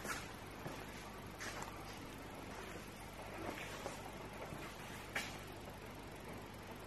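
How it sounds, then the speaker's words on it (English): Rain pours outside an abandoned sanatorium building, heard from indoors near a roof vent as a steady, faint, even hiss that runs throughout with a few brief louder taps and rattles. "It's raining like crazy outside, literally."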